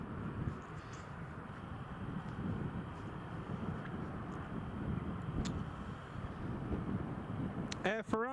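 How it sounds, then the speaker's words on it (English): A KLM airliner taxis at Newcastle International Airport, its engines a steady broad rumble from a distance with wind buffeting the microphone, and a brief higher whine near the end. "KLM has just pushed back as well and is taxiing."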